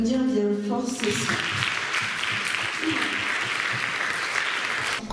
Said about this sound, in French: On peut aussi applaudir bien fort ceci.